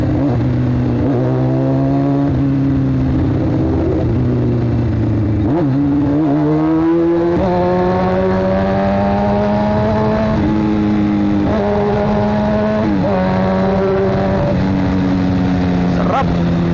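A Honda CBR600 sport motorcycle engine drones loudly while riding, its pitch rising and falling through gear shifts and throttle changes, with wind noise throughout.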